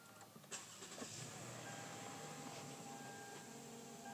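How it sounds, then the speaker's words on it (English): A 2013 Toyota Sienna minivan is started with the push button, a brief click and starter whir settling into a quiet, steady idle hum heard from inside the cabin. "Push button start."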